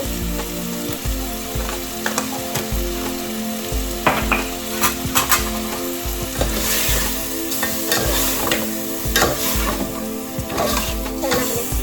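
Turmeric and coriander powder for mutton donne biryani sizzle and fry in a pan, stirred continuously with a spatula that scrapes and knocks against the metal, close and steady throughout.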